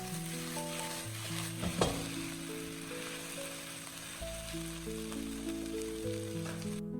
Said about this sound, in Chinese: 接着把控干水分的茄子也倒在锅中，再次翻炒均匀，使苦瓜和茄子充分的融合